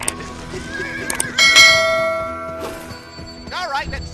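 A horse in a video game neighs and whinnies loudly in a couple of bursts, with bell-like chimes and hoof clip-clop mixed in and some game voices in the background.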